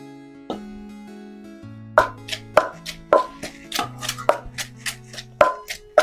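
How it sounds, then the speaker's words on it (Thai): Pestle strikes pounding boiled garlic and shallots with chilies in a mortar, about ten sharp, fairly regular thuds close by, over a low sustained tonal hum. "จะตำกระเทียมกับหอมแดงจ้ะที่ต้มไว้ ตำจ้ะตำให้เข้ากับพริก"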